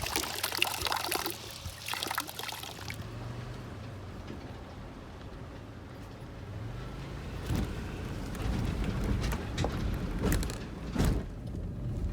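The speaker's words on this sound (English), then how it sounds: "Looks like a natural spring coming off the mountain here." Natural spring water trickling off a mountainside beside a road on Mingus Mountain, a steady soft splashing flow heard close by, with some broadband rumble and brief sharper bursts of movement nearby.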